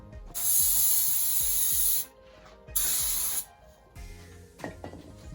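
Two long, loud bursts of aerosol engine degreaser hissing onto an engine, each lasting over a second, followed by quieter rattling and handling noises.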